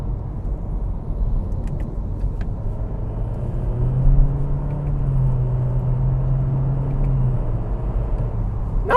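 A 2023 Acura Integra A-Spec engine drones at a low, steady rumble from inside the cabin after a downshift, its pitch swelling slightly midway and then holding even.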